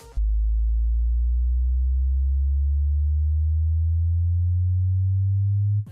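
A deep, sustained future house synth sub bass drone whose pitch slowly bends upward across about six seconds, loud and steady, with no voices.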